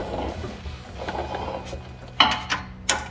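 A hand ratchet fitted with a 15 mm socket tightens an exhaust clamp on a 2019-2023 Ranger's MBRP 3-inch dual exhaust. Soft mechanical ticking gives way to three sharp, close ratchet clicks near the end.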